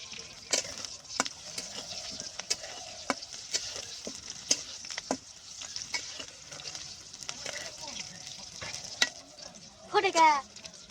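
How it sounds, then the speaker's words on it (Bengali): Green chilies and onion sputtering in hot oil for a bitter gourd fry, a steady close sizzle broken by repeated sharp pops and crackles, with a louder burst of spitting near the end. "তেলের ভিতরে কাঁচা মরিচ দিছাও, কাঁচা পেঁয়াজ দিছাও, একটু তো ফুটবেই"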